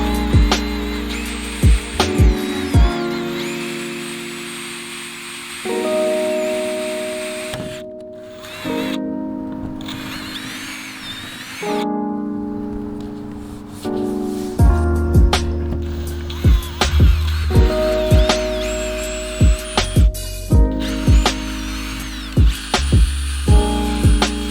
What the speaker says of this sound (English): after drilling in the hole